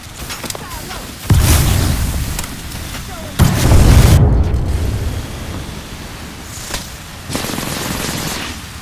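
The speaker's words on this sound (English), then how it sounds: "Throw your thermite grenade" A thermite grenade and gunfire in the video game Apex Legends, with loud booming bursts and a sustained roaring blast over steady background noise, and a voice speaking under it.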